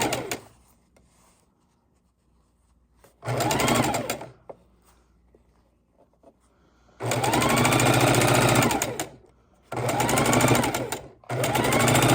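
A sewing machine chain-piecing scrap fabric quilt pieces runs in loud, close bursts of rapid stitching, separated by quieter pauses with faint handling noise.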